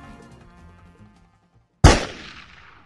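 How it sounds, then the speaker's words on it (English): A single sharp gunshot sound effect in an audio drama cracks out loudly after a quiet, faintly musical lead-in, with a short decaying tail. "I felt the gunshot a split second before I heard it."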